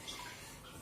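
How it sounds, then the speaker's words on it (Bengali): Soft water splashing and sloshing as someone bathes sitting in a basin, close and quiet, a brief continuous wash of water sound. "স্নান করছে রে গামলায় বসে বসে।"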